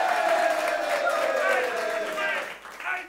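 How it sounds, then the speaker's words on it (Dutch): Crowd applause and cheering for the newly proclaimed carnival prince at a Vastelaovend carnival café, a sustained wash of clapping and voices mixed with a loud announcer's voice and music. "Applaus voor de hoogheid."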